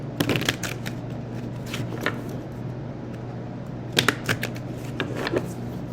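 Cards are shuffled for a reading, giving quick riffling flutters and soft slaps in short bursts over a low steady hum, with no voices.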